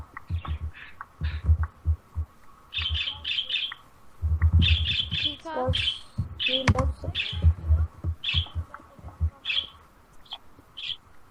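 A bird in the Minecraft video game gives repeated short, sharp squawks in quick bursts, mixed with low thumping pulses and clicks.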